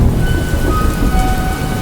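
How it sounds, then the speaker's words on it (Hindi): Heavy rain pours steadily onto a tin roof at a small village railway station at night, a dense, loud, unbroken drumming with no voices. "बारिश की बूंदें टीन की छत पर लगातार टप टप की आवाज़ कर रही थी"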